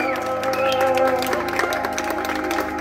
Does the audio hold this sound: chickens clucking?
no